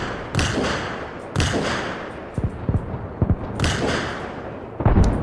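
Hellfire missiles fired from a helicopter in Arma Reforger boom as a series of heavy, deep thumps, some single and some in quick clusters, spread over a few seconds with no voices.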